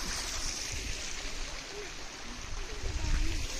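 Water rushing through a small check dam near Adimali, a steady broadband wash of flowing water that stays fairly constant and close throughout.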